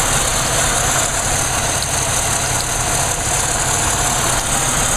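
A 1999 Pontiac Grand Am GT, thirteen years old, idles steadily close by, producing a constant engine hum with a faint high whine above it, with no voices.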